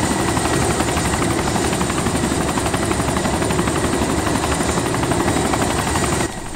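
Helicopter in the video game DayZ Origins, its rotor thrumming loud and steady at close range for several seconds before the level drops slightly near the end, with no voices over it.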